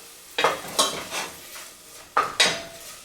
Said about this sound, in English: what I should probably do is get all my stuff washed up before I go to the next step